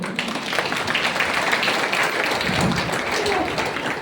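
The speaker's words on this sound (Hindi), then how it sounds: "इनके लिए तालियां बजाओ।" Audience clapping at a Hindi gathering, a dense, loud spread of hands filling the whole moment without pause, with a faint murmur of voices underneath.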